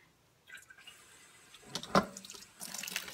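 Water splashes and trickles onto potted haworthia succulents during a quick watering, starting softly and building into a steadier pour near the end, with no voices.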